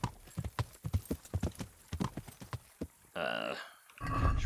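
Horse hooves clip-clop in a steady, fairly loud rhythm in the Kingdom Come: Deliverance video game, with someone talking over the hoofbeats before a brief burst of other game sound.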